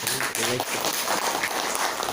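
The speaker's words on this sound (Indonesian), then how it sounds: "Tepuk tangan dulu Bapak Ibu." Applause from teachers and staff at a junior high school presentation, a brief burst of many hands clapping. A voice is heard at the start, then the dense patter of claps continues.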